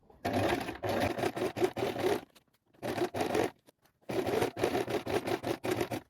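A sewing machine stitching a dress hem 2 mm from the folded edge on a lengthened stitch: three runs of fast, steady mechanical whirring and clatter, separated by short quiet pauses, close up and alone.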